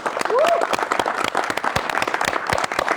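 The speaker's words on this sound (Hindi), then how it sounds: "एक बार जोरदार तालियां हो जाए" Audience applause at a live comedy show with a music theme, a brisk patter of clapping with people talking and a brief whistle-like tone early on.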